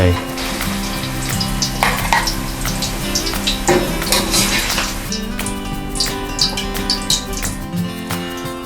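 Pork sizzles and fries in a pan with chili and garlic, a steady crackling hiss with sharp spattering pops throughout and occasional clinks, close and fairly loud with no talking.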